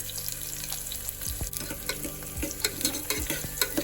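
Chopped onion frying in a pan for a jowar roti and cluster bean meal, a close sizzle with scattered stirring clinks and scrapes, no voices.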